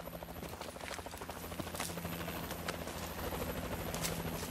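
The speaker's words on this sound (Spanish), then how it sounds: "¡El helicóptero está esperando!" A helicopter in the Call of Duty: Advanced Warfare campaign, a steady rotor chop running throughout at moderate distance, mixed with game effects and faint background clatter.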